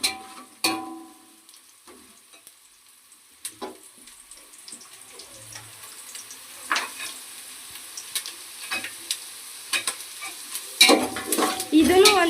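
Strips of carrot stir-fried with onions in a pan for vegetable noodles, with scattered stirring scrapes, light sizzling and a few sharp clinks, fairly quiet with brief louder bursts toward the end.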